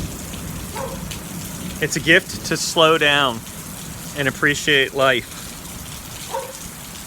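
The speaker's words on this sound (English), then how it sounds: "This thunderstorm is a gift." Steady rain pours down in a thunderstorm, a constant close hiss of drops on surfaces while a voice talks calmly over it in several short phrases.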